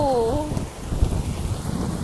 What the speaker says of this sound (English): It looks like a thunderstorm to me.